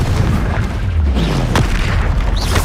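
A Confringo fire spell explodes in Hogwarts Legacy, a deep rumbling boom with a whooshing burst over a dense, continuous roar of game noise, loud and sustained throughout.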